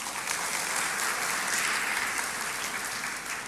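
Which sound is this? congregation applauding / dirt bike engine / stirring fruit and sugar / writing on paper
congregation applauding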